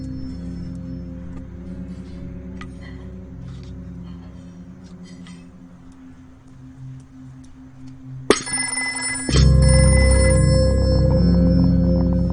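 A low household murmur gives way to a telephone ringing abruptly, its bright electronic tone loud and steady through the final seconds over a heavier rumble.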